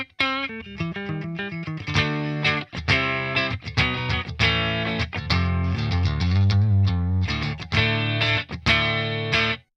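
Electric guitar played through an amplifier on an FX loop with compression, distorted and effects-laden, chords and single notes ringing loud and continuous with short gaps between phrases.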